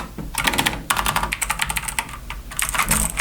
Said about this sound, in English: I'm typing with so much accuracy right now.